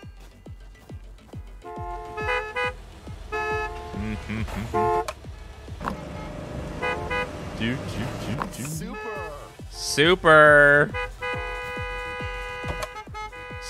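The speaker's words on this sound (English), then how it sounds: "So much honking!" Car horns in Gas Station Simulator honk repeatedly, with several overlapping toots and longer blasts over rhythmic clicks, and one loud burst near the end; a person speaks briefly.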